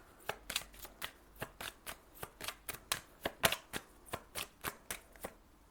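Tarot cards shuffled by hand in a rapid series of sharp, evenly spaced riffles and taps, close and fairly quiet, with no talking.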